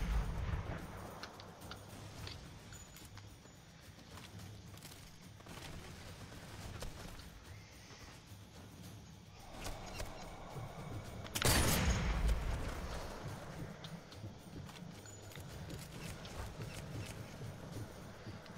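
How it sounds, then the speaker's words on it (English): Gunfire in the VR shooter Sniper Elite: faint, distant shots and rumbling over a quiet game soundscape, with one louder, sharper blast about two-thirds of the way through. "Who is shooting me?"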